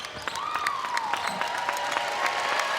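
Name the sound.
crowd applause at UCLA basketball game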